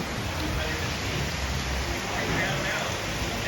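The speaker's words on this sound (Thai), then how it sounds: "สถานการณ์ตอนนี้คือฝนตกหนักมากถึงมากที่สุดนะคะ" Heavy rain pours down in a steady, dense wash of noise that fills the whole clip, loud and close with no break.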